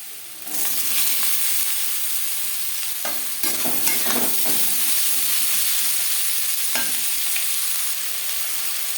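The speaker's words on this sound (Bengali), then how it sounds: "কড়াইতে দিয়ে দিয়েছি তিন চামচ রিফাইন্ড অয়েল এবার দিয়ে দেব টুকরো করে কেটে রাখা আলু" Cut potatoes frying in three spoons of refined oil in a wok, a steady loud sizzle starting after a moment and continuing throughout, with a few clattering stirs of a utensil against the pan.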